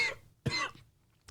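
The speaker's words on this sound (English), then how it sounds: "That made me cough." A man coughs in three short bursts, the middle one loudest, with quiet pauses between them, close to the microphone in a talk-show setting.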